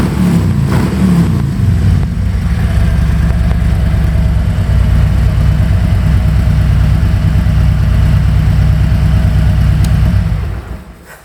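A 2020 Harley-Davidson Road King with a Stage 1 Milwaukee 8 engine and Vance & Hines exhaust idles with a deep, loud, loping rumble, a brief rev early on, then steady chugging until it cuts off at the end.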